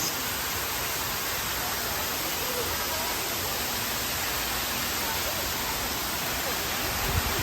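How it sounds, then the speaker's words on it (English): A waterfall pours in a constant, dense rush of water that holds at one even level the whole time, with no talking over it. "Got the pretty waterfalls."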